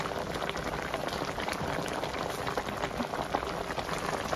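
Raw mango Kashmiri pickle simmering in a pan, a steady bubbling and crackling that holds at an even level throughout, close up with no talking.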